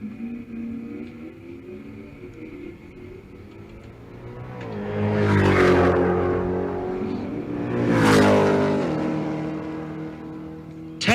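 A supercharged Dodge Hellcat and a wide-body BMW launch side by side at a drag strip, engines roaring up through hard revs and rising in two loud surges as they accelerate away, with no talk over them.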